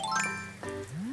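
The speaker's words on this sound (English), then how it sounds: "I did hear a balloon." A floating balloon present in Animal Crossing: New Horizons gives off a bright tinkling chime, followed by a second ring and a rising whistle-like tone.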